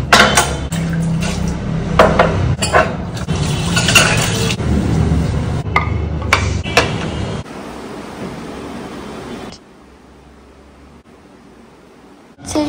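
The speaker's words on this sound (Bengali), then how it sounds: "আমি তাহলে ফল কেটে দিচ্ছি" Knife work on fruit in a home kitchen, with clattering dishes and cutlery, sharp clinks and knocks over a running-water hiss that cuts out partway, leaving a quiet stretch with a few faint taps.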